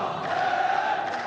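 A large crowd roars steadily in an esports arena during an Overwatch match between Team Falcons and Weibo Gaming, cheering on the hometown side with a continuous, dense wash of voices and no break.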